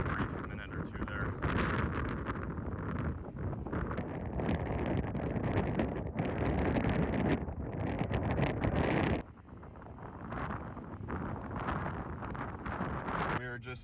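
Strong gusty wind near a storm wall cloud outside South Heart, North Dakota, a loud sustained roar buffeting the microphone that eases slightly partway through.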